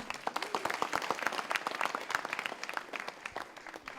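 Sustained applause from a debate audience honouring the two teams, with sharp individual claps clearly audible within a dense, even roar of clapping.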